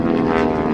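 An aerobatic propeller airplane performing at an airshow, its engine a steady droning roar with a slight pitch shift as it pulls up through a loop, loud and continuous with no talk.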